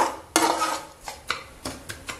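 A spatula stirs batter for bedmi poori in a metal pot, giving a loud scrape followed by several sharp, separate clinks and scrapes at an uneven pace, up close with no voices.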